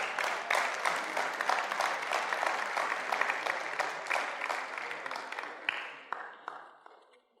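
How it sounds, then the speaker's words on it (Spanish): A church congregation at a men's retreat closing service claps and cheers in sustained, dense applause that holds steady for several seconds, then thins out and fades away near the end. "Den un aplauso al Señor."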